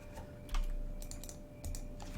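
Keys tapped on a computer keyboard while entering numbers, quiet clustered clicks in short bursts with brief pauses between them, alone without talk.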